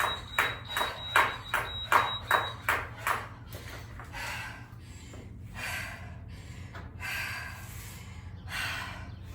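A workout timer gives a quick series of sharp electronic beeps that repeats evenly for a few seconds, then stops, leaving soft rustling and a low hum.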